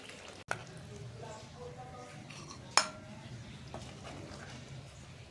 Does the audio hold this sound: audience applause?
no